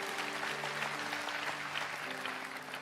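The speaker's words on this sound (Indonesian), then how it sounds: "berikan tepuk tangan untuk Tuhan" Steady applause from a church youth service congregation clapping for God, a dense continuous wash of many hands filling the room, with faint tonal music sustained underneath and a slight easing toward the end.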